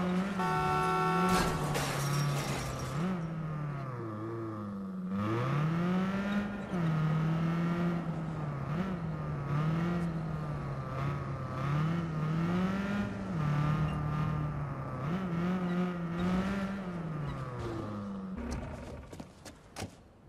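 Car driving in the video game Watch Dogs 2, a continuous engine drone rising and falling as it revs and shifts, with a brief beeping at the start and some clatter toward the end.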